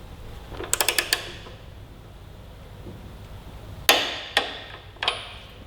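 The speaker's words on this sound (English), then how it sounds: "Got out our torque wrench here." A torque wrench snugs the rear axle of a 2018 Suzuki GSX-R1000 sportbike. A quick burst of ratcheting clicks comes first, then after a pause three sharp, loud metallic clicks ring out one by one, close up.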